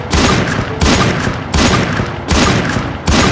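Sniper rifle shots fired in Free Fire on PC, quick-scoping between shots: five loud, close blasts at a steady rhythm, each with a long ringing tail that runs into the next, with no talking.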